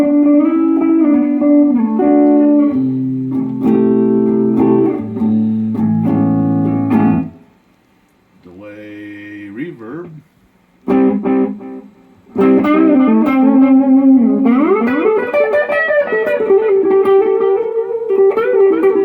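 Electric guitar played through a Crate V5212 amplifier with a delay effect, notes repeating and trailing off, loud and close, with a brief quieter gap midway.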